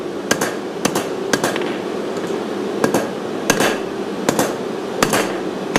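Metal being hammered straight: sharp, ringing strikes come in irregular pairs and bursts, about a dozen blows, close and loud with no talk.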